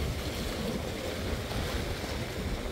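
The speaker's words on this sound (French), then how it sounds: "Un bateau vient de passer. Du coup, la mer est agitée." Choppy sea waves slap against a seawall after a passing boat, a steady, loud wash of surf with wind rushing across the microphone throughout.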